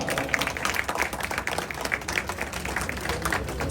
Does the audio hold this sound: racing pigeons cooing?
no